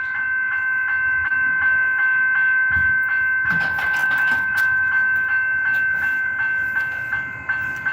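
An EDI Comeng electric train passes close by, a steady loud rumble with a sustained high motor whine and rattling wheels clattering over the rails, easing off toward the end.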